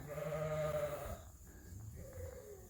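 A breeding ram bleating close by, one drawn-out bleat followed by a shorter, softer second call after a brief pause, with quiet farm background in between.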